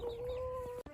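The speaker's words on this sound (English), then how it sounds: "Okay, gotta go feed the chickens." A single hen clucks nearby in a short burst, a steady tonal squawk breaking off abruptly near the end, with faint farmyard ambience behind.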